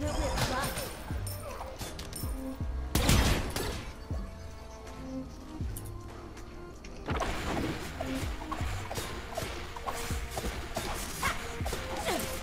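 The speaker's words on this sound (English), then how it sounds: "About to hit you with my spirit gun." A spirit gun ability fires in a Smite match as a sharp, loud blast, followed a few seconds later by another forceful burst amid a busy layer of game effects.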